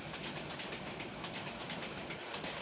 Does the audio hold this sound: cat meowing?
no